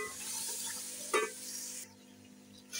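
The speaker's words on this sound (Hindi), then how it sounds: "गोश्त हमारा थोड़ा भून चुका है, इसके अंदर हम लोग अब टमाटर, हरी मिर्ची और थोड़ा सा अदरक नमाई में कटा हुआ डाल रहे हैं" Mutton fries in a pan with tomatoes, green chillies and chopped ginger, giving a soft, steady sizzle with one brief stirring scrape midway, heard up close and fairly quiet, with no talk.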